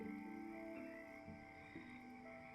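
A voice imitates a frog's croak, mimicking a creature at a Dungeons & Dragons tabletop session: low, steady croaking tones held for about two and a half seconds, close and fairly quiet, with no other talk.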